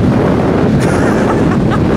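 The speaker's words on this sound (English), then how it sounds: "Somehow the wind's got worse." Strong wind on Granite Island in Australia buffets the microphone with a loud, constant low roar and rumble that swamps everything else, with no talk audible over it.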